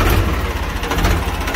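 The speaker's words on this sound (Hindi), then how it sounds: "देखो, मैं ट्रैक्टर को एक बार स्टार्ट करके दिखा देता हूँ आपको" A tractor engine runs loud and close at a steady idle, a continuous low rumble with a throbbing rhythm and no pauses.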